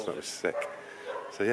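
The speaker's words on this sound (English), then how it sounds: "That's my dog going insane or something." A dog barks and yips excitedly in a few short bursts, mixed in with someone talking nearby.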